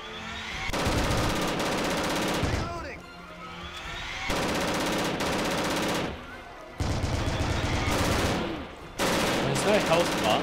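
Heavy Fire Shattered Spear gunfire comes as loud, sustained bursts of rapid machine-gun fire, three to four long volleys separated by brief lulls, close and dense.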